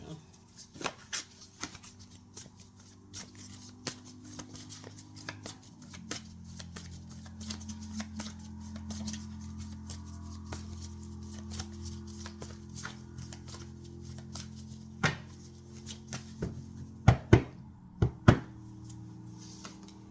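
Tarot cards shuffled by hand, quiet riffling and soft shuffling sounds with scattered light taps and a few sharper thuds of cards knocked together, close and low in level.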